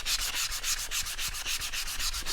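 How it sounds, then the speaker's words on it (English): Fine sandpaper rubbed hard over painted wood, a close, steady back-and-forth rasping with quick repeating strokes and no voices. "take your fine sandpaper, and then you're just going to sand over the top of this. Sand away the paint."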